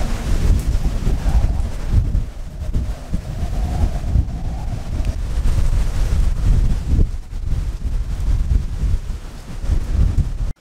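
An outdoor thunderstorm seen from a deck at Playa Potrero, Costa Rica, with loud continuous wind buffeting the microphone, low rumbles of thunder and rain throughout the whole stretch.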